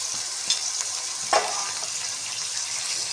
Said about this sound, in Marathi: एक शिमला मिरची घेतलेली आहे ती सुद्धा आपल्याला यामध्ये तळून घ्यायची आहे